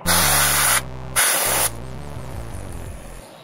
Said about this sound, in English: I'm gonna spray it with compressed air